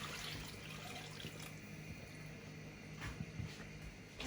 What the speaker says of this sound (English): So I'm gonna add some more water to this.